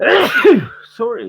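A single loud sneeze bursts out close by, followed a moment later by a voice speaking briefly.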